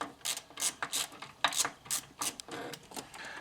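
A ratchet wrench loosening an 8 mm bolt on the steering gear of an Audi 100 A6 C4, a series of quick metallic clicking and rasping strokes, close and moderately loud, with short irregular pauses.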